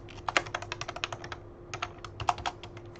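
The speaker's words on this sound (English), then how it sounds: "I'm gonna just type it out though" Fast typing on a computer keyboard, close and clear, with two quick bursts of rapid key clicks separated by a short pause and a steady faint hum underneath.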